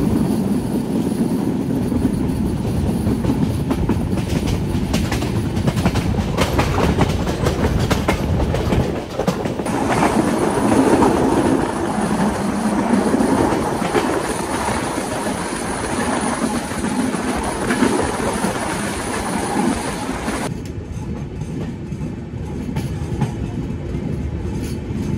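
The Kapotaksha Express intercity train from Rajshahi to Khulna rumbles loudly along the rails, with clickety-clack wheel beats and shifting roar as the carriage noise changes tone in several sections.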